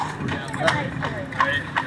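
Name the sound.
horse hooves clip-clopping pulling jaunting car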